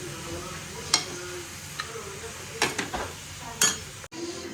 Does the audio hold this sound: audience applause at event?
no